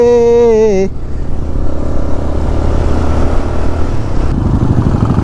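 A Mahindra Mojo motorcycle with twin silencers runs close by, its loud, rough engine noise steady after a brief tonal blare at the start.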